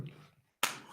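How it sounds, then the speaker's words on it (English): A single sharp hand clap rings out close and loud after a brief silence, following faint background murmur at an auditorium talk. "can we have the clap?"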